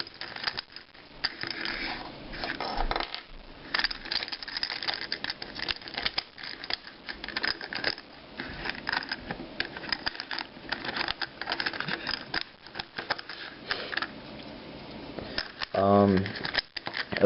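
An Alpha CC puzzle cube is reassembled by hand, producing dense plastic clicking and snapping pieces throughout, with a speaking voice intermittently over the clatter.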